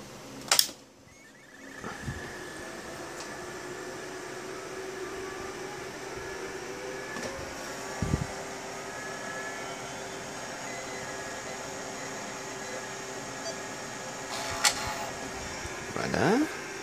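A Tandy 1000SX computer restarts with a newly fitted hard disk: a steady fan-and-drive hum runs throughout, broken by a click at the start and short clunks and ticks near eight seconds and toward the end.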